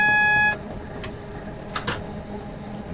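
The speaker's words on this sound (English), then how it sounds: "that's what that beep was about" A warning beep sounds in the cab of a train in Train Sim World 5, a steady electronic multi-tone beep lasting about half a second before cutting off, leaving low cab rumble and faint clicks.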